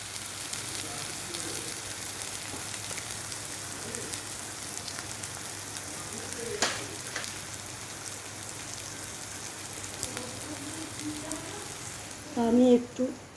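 Spices with turmeric frying in a pan for a vegetarian niramish manksho dish, a steady soft sizzle throughout, with a louder crackle near the end.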